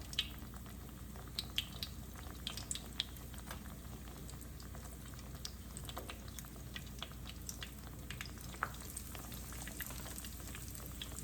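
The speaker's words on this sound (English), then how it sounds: "So we fry it until it's nice and golden brown, and you turn it." Eggplant frying in hot oil gives a steady, faint sizzle with scattered crackles and pops through the whole stretch, with no talking.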